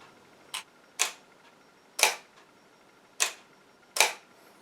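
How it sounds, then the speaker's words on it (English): A camera shutter inside a mirror camera fires five times in a row, each a crisp mechanical snap spaced about a second apart, close and isolated with no talking. "I'm going to show you how the shutter inside of the camera looks when it's working"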